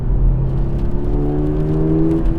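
A Toyota GR86 sports car's engine, the larger-displacement unit, drones steadily with a rising, whirring tone as it accelerates, loud and continuous from start to end with no voices.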